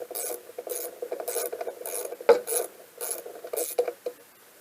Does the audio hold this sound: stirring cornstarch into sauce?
no